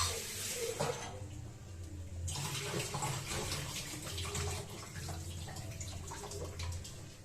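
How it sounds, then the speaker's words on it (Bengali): Tap water running while red lentils are rinsed in a bowl, a steady close splashing rush with shifting gurgles and a louder burst at the start. "এই যে মসুর ডাল নিয়েছি, এটা একটু ধুয়ে নেবো আমি"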